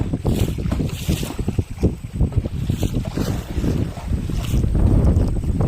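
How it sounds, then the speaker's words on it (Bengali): Strong storm wind gusting by a small forest creek at Marichjhapi, loud buffeting bursts and roaring rushes filling the whole stretch with no one talking. "প্রচণ্ড কিন্তু তুফান হচ্ছে"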